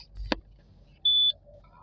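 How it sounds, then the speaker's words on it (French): A phone drops with a sharp clatter, then gives a single clean electronic beep about a second later, short and close in an otherwise quiet room. "le téléphone il tombe, il fait bip."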